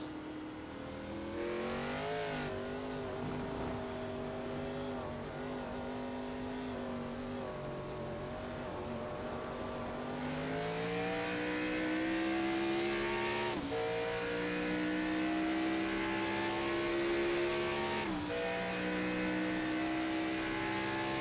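Onboard engine of a race car in a sim racing game at the Concord Grand Prix, droning loudly and continuously, rising steadily in pitch through the gears with sharp shift drops, alone without talk.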